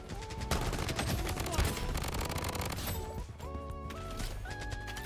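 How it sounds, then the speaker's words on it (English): Rapid gunshots crackle through a Bloodstrike match in quick irregular bursts, mixed with impacts and game effects, fairly loud and busy, then thinning into tonal interface sounds toward the end. "Taking fire. Dude, where the heck am I getting shot from?"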